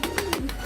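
Domestic pigeon giving a short, soft coo with a low throaty pulse, close to the microphone and heard on its own.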